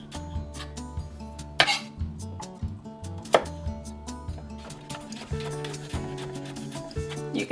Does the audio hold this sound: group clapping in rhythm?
no